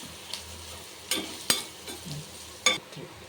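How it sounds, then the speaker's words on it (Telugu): Onions and curry leaves fry in oil in a pan and are stirred, giving a faint steady sizzle and a few soft scraping strokes with light clinks. "కొంచెము ఉల్లిగడ్డలు ఎరగేంత వరకు కలుపుకుందామండి."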